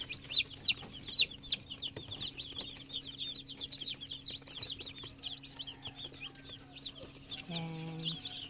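Rhode Island Red chicks peep and cluck softly, close by, in a steady chorus of high chirps with a low background hum, then one lower clucking call near the end.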